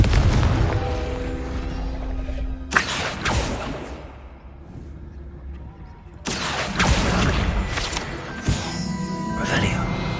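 Fire-spell blasts in the video game Hogwarts Legacy, sharp booming bursts with crackling tails, two main blasts a few seconds apart over a game soundscape, with a voice speaking.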